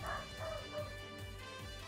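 A dog barks and yips in short, repeated bursts at moderate distance, fairly faint, with a steady background hum running underneath.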